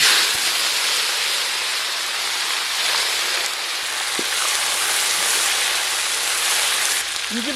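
Curry leaves sizzle in hot oil during a tempering for yogurt rice, giving a steady, close, hissing fry that continues without a break and with no voices.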